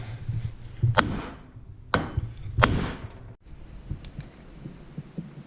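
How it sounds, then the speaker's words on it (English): Three sharp metallic hammer strikes on an Oliver 1950T tractor water pump shaft ring out at irregular intervals, followed by softer knocks and clanks in a quiet workshop. "I made good progress hammering on it"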